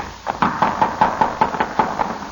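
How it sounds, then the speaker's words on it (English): Knocking on a door in a vintage radio comedy scene, about ten firm, evenly spaced raps close by and loud, with no voices over them. "Answer the door, Sarah."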